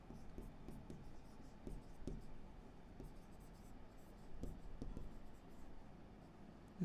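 Handwriting makes soft, faint scratching strokes in a steady uneven rhythm, close by, with a brief louder knock at the very end.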